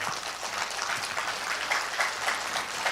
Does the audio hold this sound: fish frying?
no